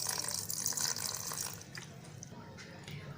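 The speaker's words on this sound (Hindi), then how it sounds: "ग्राइंड करने से पहले हम इसमें थोड़ा सा पानी ऐड करेंगे।" Water poured from a tap or jug into chutney ingredients in a grinder jar before grinding, a steady running splash that tapers off after a second and a half into a faint trickle and drips.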